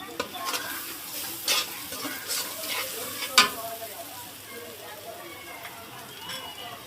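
Spice paste with turmeric, cumin powder and coriander powder fries in a pan for hilsa with taro, a steady sizzle under repeated scraping stirs and a few sharp clinks of the spatula.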